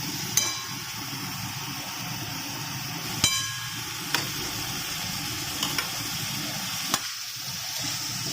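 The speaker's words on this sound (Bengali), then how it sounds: "এরপর আলু দিয়ে দেব।" Potatoes going into a frying spice paste for egg curry, steady hiss of hot oil with a few sharp, spaced clicks of a spoon against the pot, no voices.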